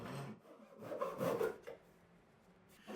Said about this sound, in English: I understand that this is a crosscut saw.